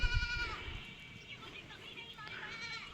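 Goats belonging to Himalayan Gaddi shepherds bleat repeatedly in short wavering calls at a moderate distance, overlapping one another outdoors, with low rumbling handling noise at the start.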